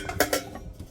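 A metal pot and lid are hung up outdoors, giving two sharp close clanks in quick succession followed by fainter rattling.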